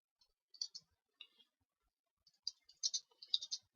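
Keyboard typing on a computer at an amateur radio station running an AEA PK-232 terminal unit, heard as sparse clusters of quiet, close clicks separated by a pause.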